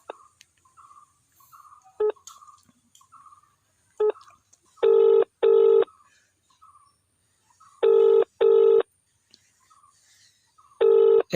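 A phone call's ringback tone sounds in loud, clear double bursts repeated at regular intervals, with fainter short tones and quiet gaps between them.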